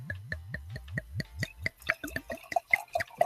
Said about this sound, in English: I can tell just by the sound of you pouring